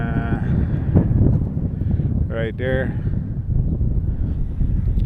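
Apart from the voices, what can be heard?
wind outdoors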